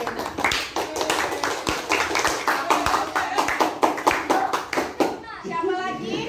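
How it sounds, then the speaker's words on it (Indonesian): A classroom of children clapping for a classmate, a fast, uneven burst of close hand claps, then children's voices chattering as it tapers off. "Tepuk tangan dulu buat Syarina"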